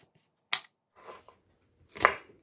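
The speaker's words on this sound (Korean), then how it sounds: "양파채 썰어주고요." A knife slices through onion on a cutting board in a few separate, crisp cuts, close and fairly quiet, with silence between strokes.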